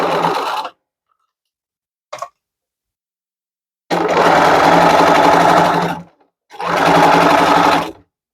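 A sewing machine stitching a bag seam runs in loud, steady whirring bursts, a short run, a tiny blip, then two longer sustained runs separated by a brief stop, close up with no talking.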